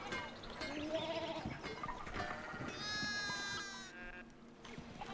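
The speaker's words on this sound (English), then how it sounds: "Could you please keep your sheep organised?" Sheep bleat repeatedly in the medieval-set video game Pentiment, several overlapping calls at close to mid distance, with a longer sustained bleat near the middle and no talking.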